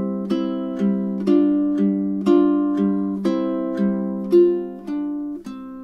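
A classical ukulele plays measures 5 to 8 of the etude Danse Paysanne, a steady run of clear plucked notes and chords with ringing sustain, close and solo without speech.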